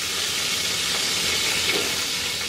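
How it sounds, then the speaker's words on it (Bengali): Cauliflower frying in oil on high heat, a steady dense sizzle and hiss that holds evenly throughout with no talk. "হাই হিটে ভাজবো যাতে এটা সিদ্ধ হয়ে না যায়"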